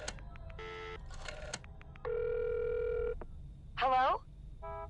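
Telephone tones in the video game Friday the 13th, several short electronic beeps and a sustained ring tone, then a warbling electronic chirp, all faint.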